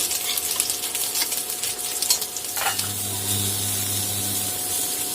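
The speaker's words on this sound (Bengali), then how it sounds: "এখন এগুলোকে আমি ভেজে নিব।" Egg kebabs frying in hot oil crackle and sizzle loudly with occasional utensil clinks; midway the spattering eases and a steady low hum joins the frying.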